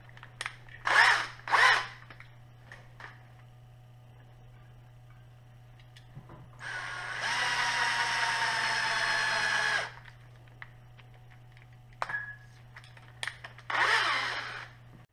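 A drill press spins to twist wire for a handmade fishing lure, with a steady whirring run of about three seconds between shorter buzzing bursts and small clicks, close and moderately loud.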